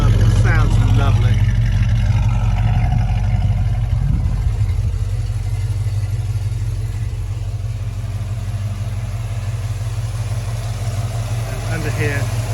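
A 1969 Ford Mustang hardtop with a 289 V8 and twin exhaust idles with a deep, steady low rumble, close by, while someone talks over it at times.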